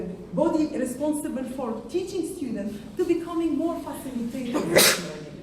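During a lecture on active learning with modern technologies, a single sharp sneeze bursts out near the end, briefly rising over a man's steady speech.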